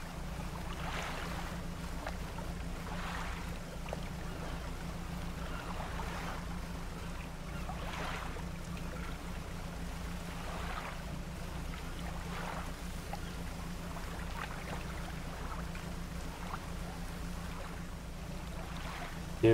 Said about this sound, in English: We are riding on our little engine alone.